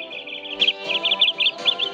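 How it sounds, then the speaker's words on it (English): A small bird chirps in quick, bright repeated notes, close and clear, with no other sounds. "Little bird, I have heard you sing so sweetly."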